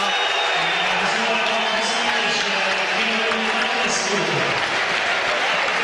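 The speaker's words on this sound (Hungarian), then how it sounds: "Minden esetre Tátapör 5 perc alatt felhergelte a szolnoki közönséget" Riled-up home basketball crowd filling the Szolnok arena during a Szolnoki Olaj KK versus Besiktas game, a continuous loud roar of applause and shouting with no break, voices blended into one wash of crowd noise.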